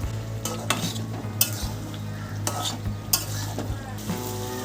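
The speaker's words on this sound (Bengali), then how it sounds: "মেটে দিয়ে ভালো করে কষানো হয়ে গেছে" Chicken liver is being stir-fried in a pan with a spatula scraping the metal surface in repeated sharp strokes over a steady low sizzle, close and clear with no voices.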